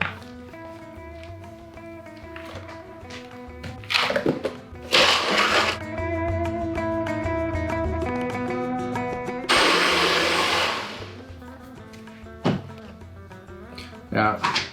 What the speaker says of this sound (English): food processor or high-powered blender, lemon juice, almonds, and sugar, along with 3 turns of lemon zest. Now just blending this.